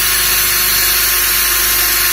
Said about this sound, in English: we're gonna drill the hole out